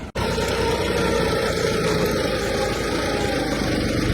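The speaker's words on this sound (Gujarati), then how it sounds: "મેસીનું બસો ચોપન ફોર બાય ફોર બરોબર અને આ પચાસ હોર્સ પાવરનું ટ્રેક્ટર છે" A Massey 254 4x4 50 hp tractor runs with a steady, loud, close diesel drone and low rumble that holds evenly throughout, with no talk.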